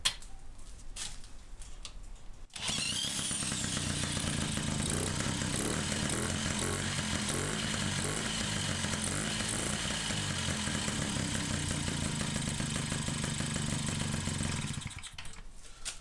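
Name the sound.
moped engine starting and running after ignition timing by eye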